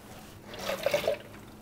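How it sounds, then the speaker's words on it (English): Water is poured into crushed tomato sauce in a pot for a wild cod fish stew, a brief soft splash and gurgle lasting under a second against quiet kitchen background. "I'll add some water to this because I don't like to waste it."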